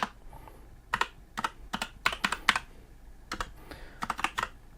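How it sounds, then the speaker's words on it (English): A web address is typed on a computer keyboard in short bursts of crisp, close key clicks with brief pauses between them, and no one speaks. "all you want to do is to type in"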